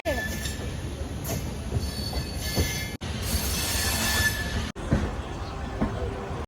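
A moving passenger train heading for Rajkot Junction, heard from inside a carriage as a steady loud rumble with wheel squeal and track clatter. Brief breaks interrupt the constant roar.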